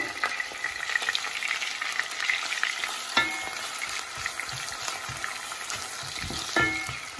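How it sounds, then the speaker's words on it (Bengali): Onions sizzle and crackle in hot oil in a pan while cooking radish with fish, a continuous close frying hiss with a few sharper spatters and stirring scrapes. "গরম হয়ে গেছে, আমি পেঁয়াজ দিলাম দেখতে পারা।"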